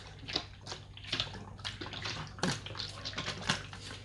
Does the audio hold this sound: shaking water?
yes